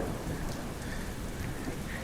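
Steady rain falls at Purandar Fort, a hill fort, in a dense, even hiss of drops on surfaces with no voices over it.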